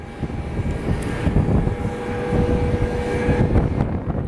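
An airliner taking off at windy Columbus airport, a broad, continuous engine roar with a high whine running under it.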